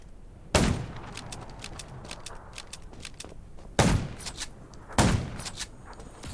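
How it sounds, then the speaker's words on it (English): Loud gunshots in the zombie survival game Undawn: three heavy reports spaced a few seconds apart, with lighter rapid clicks and rattles between them and no voices. "Gunshot."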